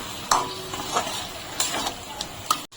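Pointed gourd is sautéed with a paste of rice, melon seeds and cashews, soft sizzling broken by several sharp spatula scrapes and taps against the pan, close up with no voices.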